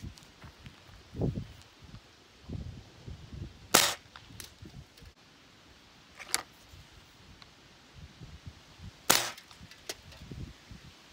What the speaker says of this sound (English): The 22 caliber really hits those cans with authority.